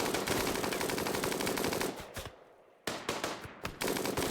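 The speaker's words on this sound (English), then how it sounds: "Well, Moon, you're gonna catch some bullets." Rapid automatic gunfire from the RimWorld video game rattles in dense bursts, pauses briefly, then resumes in shorter volleys, loud and close with no talk.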